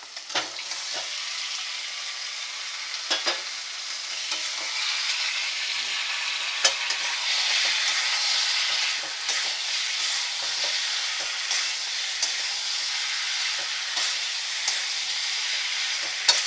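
Chicken and potato pieces frying in spiced oil masala in a pan, a steady close sizzle and hiss with occasional scraping stirs, no voices.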